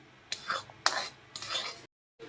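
A spoon scrapes and stirs a thick raw mango pulp mixture cooking in a pan, in three distinct strokes with brief pauses, then a short silence before another scrape begins; close and clear.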